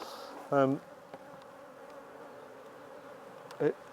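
Faint steady buzzing of honey bees at a hive hums in the background, with two short louder buzzes as bees fly close by the microphone.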